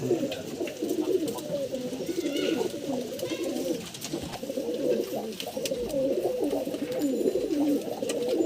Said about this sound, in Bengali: দেখেন কবুতরটা।